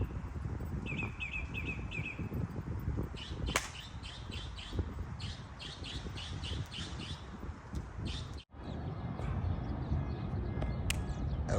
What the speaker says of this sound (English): I like the birds in the background, the noise